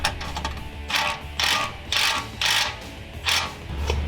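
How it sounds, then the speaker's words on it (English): A ratchet with an 18mm socket tightens a skid plate bolt on a Jeep Wrangler JL, giving six short, evenly spaced bursts of clicking, close and clear, with no talking. "you'll take a 18mm socket right here. We'll go ahead and tighten it up"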